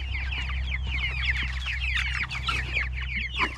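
A flock of chickens clucks and chatters continuously in the morning, close and busy, with many overlapping calls over a low rumbling background.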